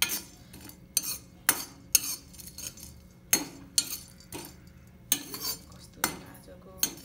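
Metal utensil scraping and clanking in a pan while roasted ingredients are stirred and mixed for yomari, with about a dozen sharp knocks at an irregular rhythm over quiet background.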